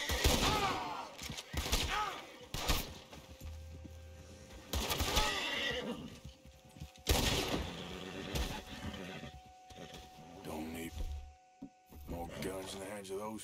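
Horses neigh and whinny repeatedly amid bursts of gunfire and hoof clatter in the video game Red Dead Redemption 2, with someone talking intermittently over the chaotic scene.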